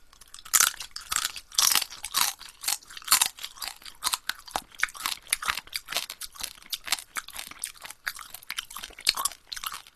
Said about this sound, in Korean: 껍질 씹어 먹을 만한데?